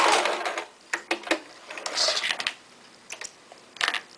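Sewing machine stitching fabric for a beginner eye pillow, running in short uneven bursts with a brief back tack, close and fairly quiet.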